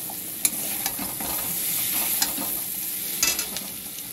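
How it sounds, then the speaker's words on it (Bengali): A fried fish head being stirred in a hot pan with greens, with a continuous sizzle and several sharp spatula scrapes and clinks against the pan, close and alone without voices. "ভালো করে মাছের মুড়োটাকে নাড়াচাড়া করব"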